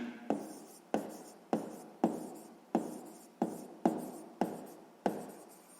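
A pen writes by hand on paper during a sixth-grade maths exercise. There are ten evenly spaced scratchy strokes, each a sharp onset that fades out, close and clear with no talk.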